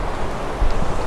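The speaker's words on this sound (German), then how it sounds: "Irgendwie ist der Wind doch relativ heftig." Strong wind sweeps across the beach at Zoutelande on the Dutch coast, a loud, broad, continuous roar buffeting close to the microphone with a gust swelling midway.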